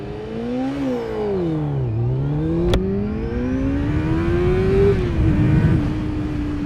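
A 600cc sportbike engine revs up, dips, then climbs steadily as the clutch is dropped for a launch, loud and close with a smooth rising whine throughout.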